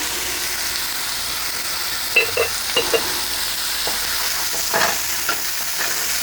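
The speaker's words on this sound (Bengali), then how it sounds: "এটাকেও আমি এই মশলার সঙ্গে এই পেঁয়াজের সঙ্গে মিশিয়ে একটু ভেজে নেব" Spices, ginger, garlic and onion frying in a pan for a hilsa fish malaikari, giving a steady low sizzle with a few soft stirring scrapes scattered through.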